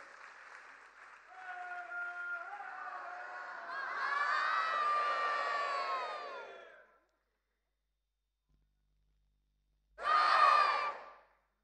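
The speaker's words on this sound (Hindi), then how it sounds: "एक बार जोरदार तालियों का आशीर्वाद" An audience at the Sansad Sanskritik Mahotsav cultural festival in Kashi applauds and cheers with shrill whoops. The sustained burst swells, then stops abruptly, followed by a brief second surge of cheering after a pause.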